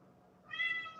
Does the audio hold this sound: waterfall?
no